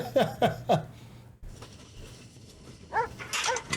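A big Rottweiler barks in a TV show scene: three quick, close barks up front, then quieter background sound before a couple more harsh barks near the end.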